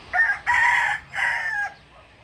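Rooster crowing at a backyard game farm on a muddy rural field, one loud, close crow in several stretched syllables with no talk.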